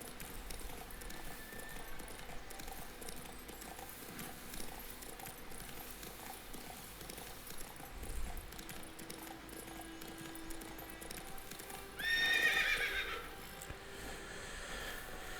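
Horse hooves clop steadily under a game soundscape in The Witcher 3, with a short horse snort or whinny rising near the end over faint ambient noise.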